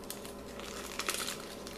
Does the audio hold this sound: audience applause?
no